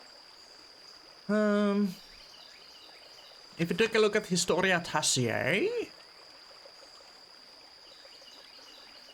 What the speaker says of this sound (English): I think I want to get away from that water noise.